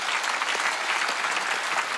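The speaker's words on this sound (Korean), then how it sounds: "박수 치라고" A church congregation at a Sunday worship service claps together, dense continuous applause filling the room at steady loudness for the whole stretch, with no clear speech over it.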